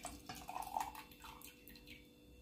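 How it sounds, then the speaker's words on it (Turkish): Beetroot juice is poured into a glass in a kitchen, producing faint, close trickling and dripping with a few light clinks, with no talking. "böyle bir bardağa koyuyorum suyunu"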